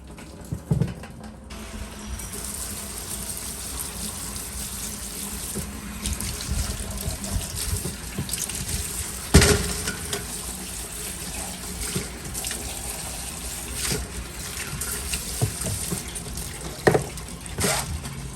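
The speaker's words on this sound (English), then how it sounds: "this is just a shop sink hooked up to a hose and the water gets caught in a 5-gallon bucket" Water runs from a shop sink hose into a 5-gallon bucket, a continuous splashing trickle with a few louder knocks and clatters scattered through it, no voices.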